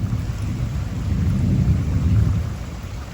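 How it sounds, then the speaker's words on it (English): A summer thunderstorm rolls over a vegetable garden, low continuous thunder rumbling under the steady hiss of heavy rain falling, loud and unbroken with no voices. "Rain's coming down."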